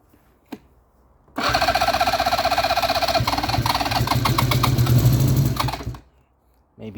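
A restored Moto Guzzi 254 motorcycle engine, started with the choke on, fires after a brief click and runs for about four and a half seconds with a fast, buzzing idle, loud and close, before cutting off.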